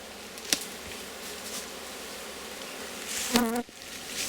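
Honey bees buzz steadily around an open Rose hive during a colony inspection, a dense insect hum that runs throughout with a louder, closer pass of a bee near the end.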